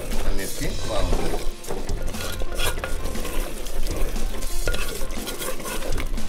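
Gongura chicken curry with chopped coriander being stirred in a pot, a steady run of scraping and clatter with a low bubbling sizzle underneath, close and fairly loud throughout.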